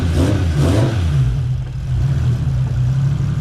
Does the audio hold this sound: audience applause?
no